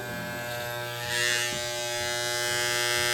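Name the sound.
Andis T-Outliner hair clipper running with loose housing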